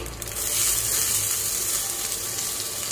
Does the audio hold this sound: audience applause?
no